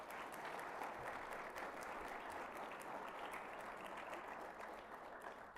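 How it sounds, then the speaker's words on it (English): An audience at a high school NTHS induction ceremony applauds the students' parents and guardians with sustained, even clapping that holds steady from start to finish, with no voices over it. "Students, will you please give your loved ones a round of applause?"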